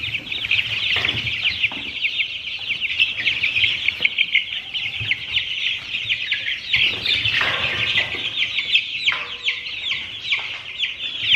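Chickens, including a black Australorp, cluck and chirp steadily while eating and climbing on their feeder, a close, busy flock chatter with occasional louder calls.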